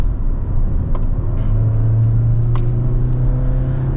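A 2024 Mazda CX-90 three-row crossover driven on a winding road, heard from inside as a loud steady engine drone and road rumble with a rising tone as it accelerates, and no talking.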